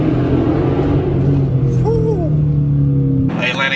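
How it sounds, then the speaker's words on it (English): A Dodge Challenger drives through Atlanta city streets, its engine a steady low rumble under road noise, with a brief rising whine partway through and a sharp cut at the end. "I'm driving in the Atlanta streets"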